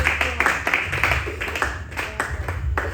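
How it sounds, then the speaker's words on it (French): Church congregation clapping in a steady run of close, sharp claps, loud and continuous throughout, with a faint voice beneath. "Acclamons le Seigneur s'il vous plaît."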